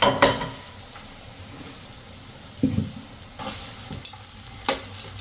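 Tomatoes are turned over and roasted in a pan for a tomato and raw mango chutney: a soft sizzle runs beneath several scraping, clattering turns spaced a second or so apart, close by with no speech.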